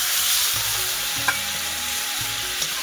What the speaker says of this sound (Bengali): কিছুক্ষণ মশলাটা কষিয়ে নিয়েছি, দিয়ে দিচ্ছি সামান্য জল।